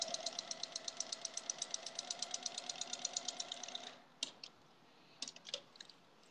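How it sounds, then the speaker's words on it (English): A sewing machine stitches a rag quilt with a steady, rapid ticking run for about four seconds, then stops, followed by a few scattered light clicks in a quiet room. "So I'm actually standing to sew today"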